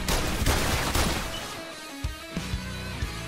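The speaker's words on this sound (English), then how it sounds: "if you wouldn't mind, as to stop fucking shooting me" Bursts of gunfire in the VR game The London Heist crack loudly and close at first, then give way to a few sparse, quieter single shots and impacts.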